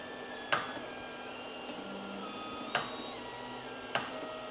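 An Elegoo Orangestorm Giga 3D printer feeds filament from a spool, giving quiet mechanical whirring with three sharp clicks spaced a second or two apart over a low background hum.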